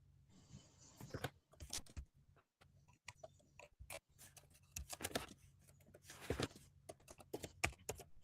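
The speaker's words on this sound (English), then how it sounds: "I'm typing something in ChatGPT real quick." Someone types quickly on a computer keyboard nearby, irregular bursts of clicking keys with short pauses, quiet and alone.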